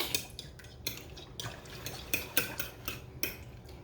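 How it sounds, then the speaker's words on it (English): A fork whisks an egg mixture with vanilla and cinnamon for French toast, giving quick rhythmic clinks and taps against the bowl, close and fairly clear, with no talking. "Now let's just whisk this up. I'm just using a fork."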